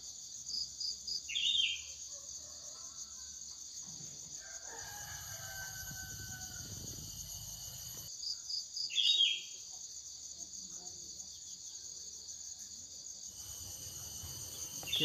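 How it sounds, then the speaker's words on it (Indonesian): Crickets and other insects keep up a continuous high chirping chorus outdoors, with a rooster crowing twice and some faint clucking and rustling nearby. "serangga insekta."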